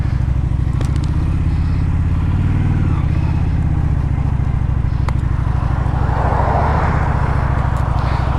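Loud, steady engine rumble from a 2024 Honda Shadow Phantom cruiser motorcycle idling nearby, a deep continuous throb with faint clicks on top and no talk.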